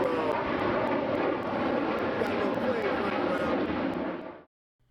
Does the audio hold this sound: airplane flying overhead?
yes